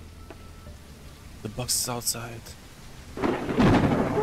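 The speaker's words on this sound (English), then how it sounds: "Oh, it's raining." In a pharmacy simulator video game, rain patters steadily while thunder rumbles and swells near the end, with a person speaking briefly over it.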